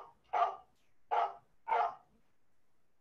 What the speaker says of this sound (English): She's just barking at the television.